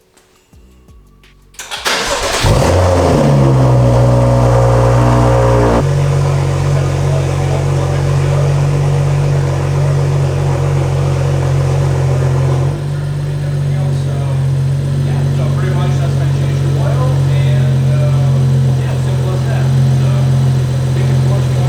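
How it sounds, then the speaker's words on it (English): A BMW N55 car engine, just after an oil change, cranks briefly and catches with a loud rev. It settles into a steady, close idle that drops slightly in level about halfway through. No voices. "So now we're ready to start the car."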